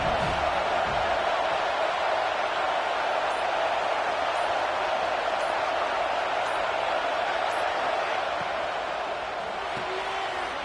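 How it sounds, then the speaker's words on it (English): Football stadium crowd at a Texas A&M versus USC game, a dense, steady roar filling the whole stretch without letting up. "This crowd ready to make its presence known."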